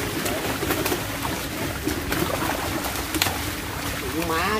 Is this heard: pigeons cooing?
yes